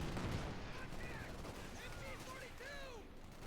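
Gunfire in the Company of Heroes 2 strategy game, quiet scattered shots and whistling projectile sweeps over a low rumbling battle background.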